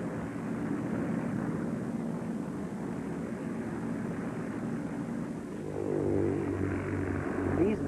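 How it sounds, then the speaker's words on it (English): Propeller planes spraying insecticide over crops drone steadily at a distance, a broad engine hum that swells louder toward the end as one passes nearer. "These planes are not laying a smoke screen,"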